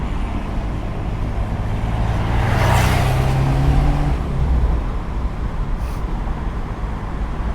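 A Fiat 124 Spider Abarth with a turbo engine drives along, giving a steady engine drone and road rumble that swells into a louder surge in the middle before settling back, with no voices.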